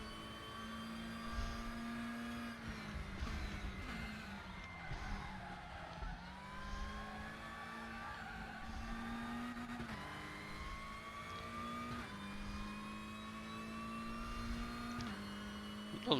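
A 2017 WTCC Lada Vesta race car drives the Twin Ring Motegi road course in a racing game, its engine a loud, steady drone close by that rises and falls in pitch with gear changes and throttle.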